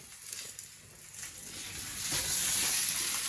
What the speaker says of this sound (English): So our potatoes have been sizzling for about 4 minutes now on one side.